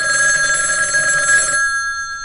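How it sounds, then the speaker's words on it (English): A telephone bell rings steadily and loudly for about a second and a half, then cuts off, leaving a faint ringing tail with no voices. "Answer the phone."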